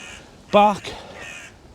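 A crow caws at an allotment in winter: one loud, harsh caw followed by a shorter, softer second call, close by, with faint background noise around it.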